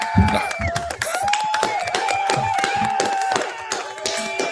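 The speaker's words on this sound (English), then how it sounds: "why don't we give the borough mayor a little round of applause, guys?" Audience clapping for a borough mayor at a live talk show taping, a steady burst of applause mixed with cheering and chatter over several seconds.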